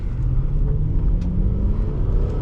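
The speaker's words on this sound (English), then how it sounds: "It spun a little bit because of the bad asphalt." A 1995 Lexus LS400 accelerates hard with a loud, steady engine roar close by, its wheels briefly spinning on rough asphalt.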